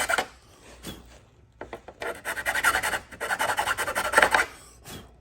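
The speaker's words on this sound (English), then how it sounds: "I'm going to file that whole square to match the carriage size of that bolt" A hand file rasps a square hole for a carriage bolt while fitting a fiberglass bumper on a 1964/65 Mercury Comet gasser, close bursts of rhythmic back-and-forth scraping strokes with short pauses between them.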